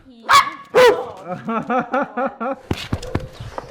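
Dogs on an island barking in a quick series of sharp yips and bow-wows, close and loud, with a brief whimper and clatter near the end.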